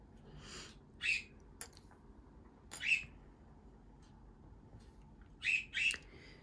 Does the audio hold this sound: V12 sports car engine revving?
no